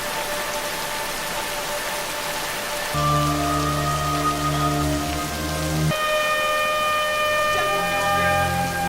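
Heavy rain falls on a prison yard in a film scene, a loud, constant wash of drops, with sustained tonal music swelling and shifting beneath it.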